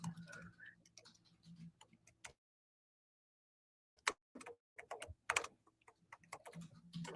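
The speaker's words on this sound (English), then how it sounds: "I'm sorry, I have an Apple keyboard. They're kind of trash." Light, quick clicking of typing on an Apple computer keyboard comes in uneven bursts, with a pause in the middle and faint talk in the background.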